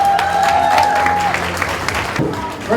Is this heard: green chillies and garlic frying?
no